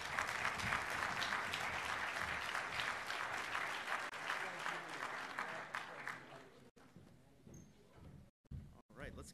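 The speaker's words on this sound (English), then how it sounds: "let's give another round of applause for General Bergeson and his J6" Audience applause at a defense intelligence conference, a dense sustained clapping from a large crowd lasting about six seconds and then dying away into scattered claps and room quiet.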